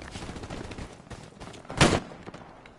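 Gunfire in a mobile battle-royale video game: a scatter of shots at moderate level, then one loud, sharp burst near the middle, dying away into quieter crackling.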